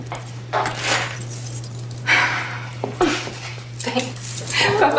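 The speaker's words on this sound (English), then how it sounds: "Keys." Keys jangle in short metallic bursts during a farewell exchange, with a steady low hum underneath and voices nearby.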